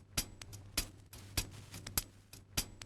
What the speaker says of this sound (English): then we have two more layers of hi-hat.